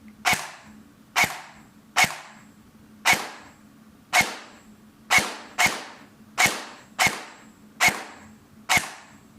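LDT G36 gel blaster firing single shots, eleven sharp loud snapping cracks at roughly regular intervals close by, each with a short decay, and no voices.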